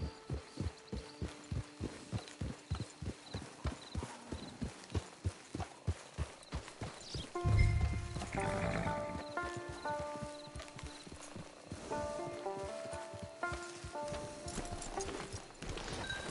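Horse hooves clip-clop in steady rhythm in the Red Dead Online video game. The clear, evenly spaced beats come first, then give way to a musical score with the hoofbeats fainter beneath it.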